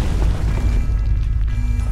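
A deep rumbling explosion effect from a science-fiction audio drama rolls through a sustained, heavy low roar, loud and close with no voices over it.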